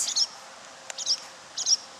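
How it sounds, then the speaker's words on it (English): An agitated barn swallow gives short, high, sharp chirps, three quick bursts spaced about evenly apart, fairly close over a quiet outdoor background. "There's a barn swallow who's really pissed that I'm here right now. You're going to hear her chirping a lot."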